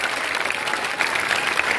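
Sustained applause from staff and students at a school felicitation ceremony at HSS Gandoh, a continuous, fairly loud wash of many hands clapping together with no speech over it.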